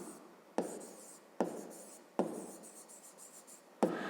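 Pen or pencil scratching out a math solution on paper, a few bursts of writing separated by short pauses, close and fairly quiet, with no speech.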